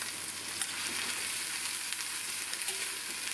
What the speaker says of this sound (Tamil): இந்த வெங்காயம் லேசாக வதங்கினா போதும், ரொம்ப நேரம் வதக்கணும்னு அவசியம் இல்லை.